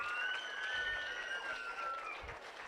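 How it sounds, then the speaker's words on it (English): Applause from the crowd at a 4-H market hog show at a county fair, held steady throughout as a continuous wash of clapping with no voices over it. "let's give a round of applause to our kids left out here in the ring."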